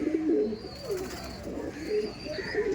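Pigeons in a backyard loft give soft, repeated throaty coos close by, a steady murmuring under faint background noise.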